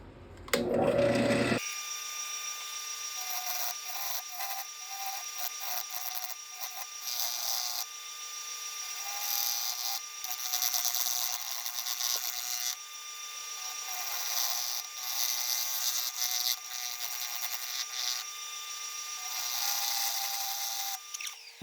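A wood lathe turns a birthday bowl with a knot in it while a steel tool cuts hot shavings, giving a continuous high whirring scrape with shifting pitch and pressure. After a brief low thump at the start, it runs steadily and close throughout.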